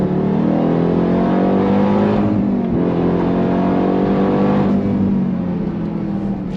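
A 2024 Dodge Durango Hellcat Black Edition SUV accelerates at full throttle, its supercharged engine roaring loud and close with a steady rising drone and a brief dip at a gear shift.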